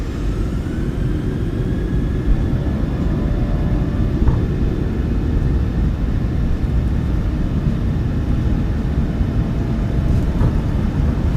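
A PMDG Boeing 737-700 in a flight simulator at takeoff thrust: a loud, steady engine roar with broad low rumble and a faint high whine, sustained unchanged throughout.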